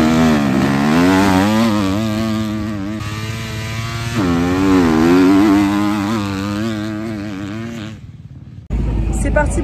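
Motorcycles at a racing circuit heading out for a free practice session, a loud steady engine drone with rising and falling revs that runs for most of the stretch, then cuts off sharply before another burst.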